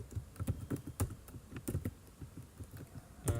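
Steady, rapid typing of code on a computer keyboard, with close, crisp key clicks in an irregular rhythm and no talking.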